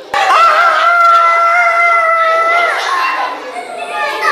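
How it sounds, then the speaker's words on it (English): A rooster crows loudly and close, one long drawn-out cock-a-doodle-doo that lasts about three seconds and then trails off into softer calls. "Rooster in the morning always sing it."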